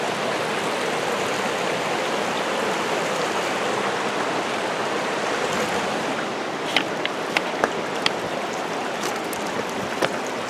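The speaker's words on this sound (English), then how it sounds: "All these mini little waterfalls." Steady rushing of small waterfalls, a broad continuous wash of splashing water with a few faint clicks toward the end.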